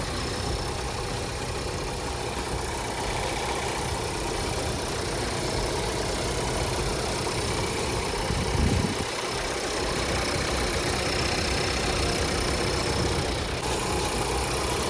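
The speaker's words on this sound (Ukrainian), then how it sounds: "Двигун працює взагалі чітко, рівно, можна сказати, без зауважень." A SEAT Leon engine idles in a steady, even drone, close and continuous, with a brief low thump partway through.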